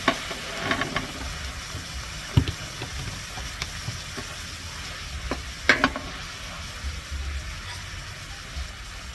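Coconut milk cooking in a pan for a Thai canned fish dish, a close bubbling sizzle with stirring clatters and a few sharp utensil knocks against the pan.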